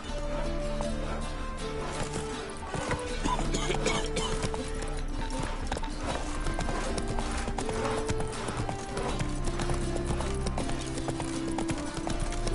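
A horse gallops in The Witcher 3: Wild Hunt, its hooves clopping in a fast, continuous rhythm under game music, with a brief voice audible.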